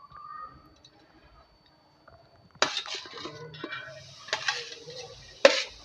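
Chopped onion, coconut and garlic dry-roasting on a griddle (tawa), with intermittent metallic clinks and scrapes of a utensil stirring, close and moderately loud after a quiet start.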